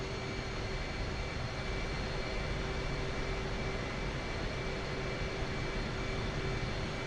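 An F/A-18C jet taxies in the DCS flight simulator game, its engine a constant loud whine and roar with steady tonal hums over dense broadband noise, unchanging for the whole stretch and free of speech.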